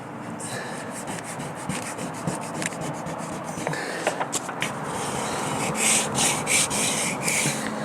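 A squeegee rubbed in repeated short strokes over a tactical American flag decal on a truck, close and scratchy, the rubbing growing louder toward the end, with no talking.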